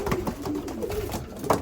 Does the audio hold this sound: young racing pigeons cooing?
yes